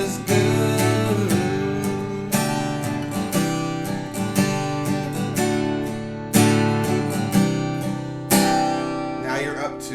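Guitar playing the instrumental break of a song, loud strummed chords with rhythmic accents and no voices.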